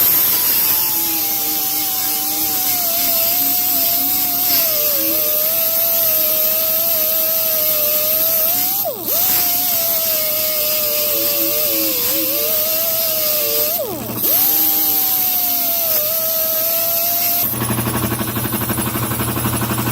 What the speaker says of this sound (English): Use the edge of your sanding disc.